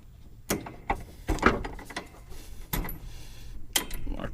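A cotter pin is worked out of the deck lifter arm bracket on a John Deere D105 riding mower, giving a series of sharp metallic clicks, scrapes and taps at close range with no talking.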